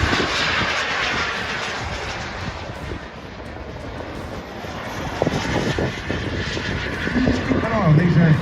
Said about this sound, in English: Keep an eye on these aircraft.